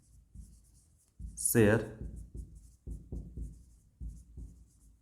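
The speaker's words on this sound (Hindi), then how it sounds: "यहां पर हम लिखेंगे" Pen or marker writing accounting entries on a board or paper, short scratchy strokes in bursts, heard close under a man's explanatory speech in Hindi.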